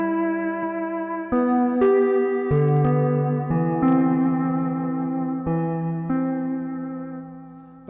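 A Hawaiian steel guitar plays a song in C. The notes are sustained and gliding, with echo and reverb, and a few plucked changes ring out clearly with no voices.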